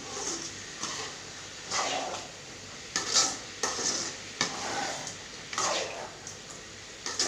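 Salted beetroot sautés in a pan, its sizzle broken by repeated scraping and stirring strokes, with metal utensil clinks against the pan close by.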